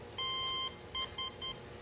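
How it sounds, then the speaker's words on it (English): A beginner funfly RC plane beeps as its battery is plugged in and links to the transmitter: one longer electronic tone followed by three short beeps, close and clear with no talking. "you'll hear it beep. And when it makes that noise, it means that it's connected to the transmitter."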